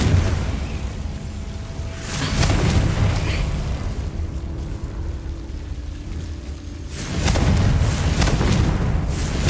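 A fire-blast spell explodes in the video game Hogwarts Legacy, two heavy booming blasts several seconds apart, each with a rushing, crackling tail of flame and debris.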